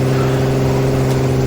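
A Ford 300 straight six running on break-in oil with open headers and no exhaust fitted. It makes a loud, steady, close-up drone with strong low harmonic tones and no talk.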